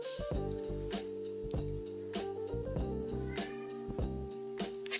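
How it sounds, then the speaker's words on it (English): Indoor cats meow in the background, a few short tonal cries recurring through a steady room hum, fairly faint and with no talking over them. "you can hear my cats in the background"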